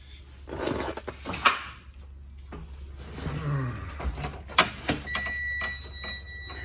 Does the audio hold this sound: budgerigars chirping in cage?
no